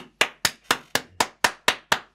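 Eight sharp, evenly spaced claps ring out in a steady rhythm, crisp and close with no voices.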